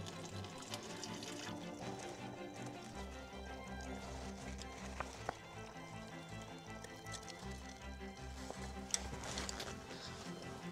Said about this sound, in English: And just pour it out.